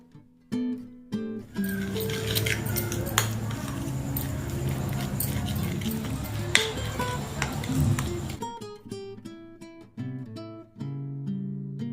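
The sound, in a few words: mixing masala paste with lemon in a bowl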